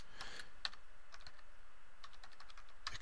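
Fingers type on a computer keyboard, a quiet, uneven run of light clicks and taps, close and without any talking.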